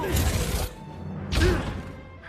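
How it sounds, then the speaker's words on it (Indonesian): Glass box shattering in the Ant-Man film, two loud crashing bursts a moment apart, each with a bright breaking-glass spray trailing off. "Scott yang berusaha keluar dari kotak kaca, akhirnya berhasil memecahkan kotak tersebut."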